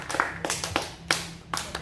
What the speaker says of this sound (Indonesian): Oke, tepuk tangan buat dia dulu.